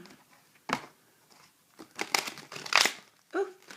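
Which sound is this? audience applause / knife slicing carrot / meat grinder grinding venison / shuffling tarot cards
shuffling tarot cards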